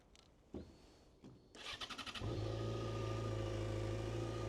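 A Yamaha XJ6 Diversion motorcycle engine, cold, cranks with a few short bursts, then catches and settles into a steady, loud running rumble.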